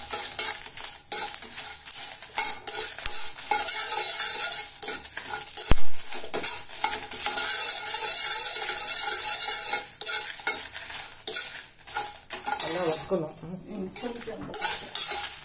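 Coriander and chillies being stirred in a hot pan for a coriander-mint thokku, with steady clattering utensil scrapes and a continuous sizzle running throughout, loud and close, with a brief spoken word near the start.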